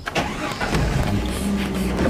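A car engine cranks and catches, then runs at a steady rumble with a brief rise in revs, close by and with no talking.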